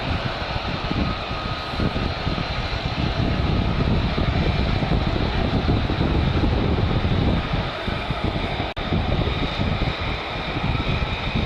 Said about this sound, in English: There's tons of F-35s.